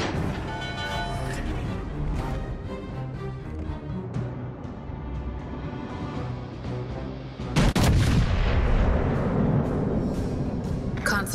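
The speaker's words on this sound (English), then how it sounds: "Concentrate fire on the enemy warship." Heavy warship cannon fire in World of Warships: Legends, a dense, loud barrage of booming shots with a sharp, stronger blast near the end, running under game music and radio-style callouts.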